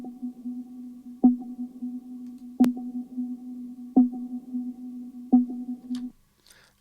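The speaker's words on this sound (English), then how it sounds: "the tail right now from the reverb becomes more obvious because we have added a lot of saturation here" A sustained low tone carries a saturated reverb tail, with a sharp transient returning roughly every 1.4 seconds, close and steady, then the sound cuts off near the end.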